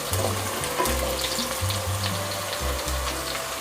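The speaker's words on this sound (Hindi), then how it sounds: "तो हमने इसे गोल्डन ब्राउन होने तक फ्राई करते रहना है" Sliced onions sizzle in hot oil while browning toward golden for a shan pulao, a close, continuous frying hiss with faint stirring clinks and no talk.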